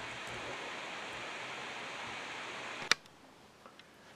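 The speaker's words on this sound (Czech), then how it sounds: "V plném zatížení se už samozřejmě ventilátor rozfouká, ale jedná se pouze o silné šumění" A Lenovo IdeaPad Y580 laptop's cooling fan under full load gives a steady, soft broadband whoosh for nearly three seconds. A sharp click follows and the sound drops to near silence.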